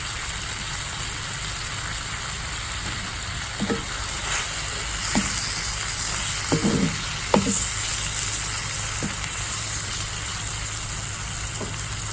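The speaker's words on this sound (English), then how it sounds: "I'm going to go ahead and add the other 3 tablespoons of butter, the juice of half a lime" Butter and lime juice sizzle around a T-bone steak in a hot pan as a continuous close, loud hiss, dotted with occasional pops and utensil clinks.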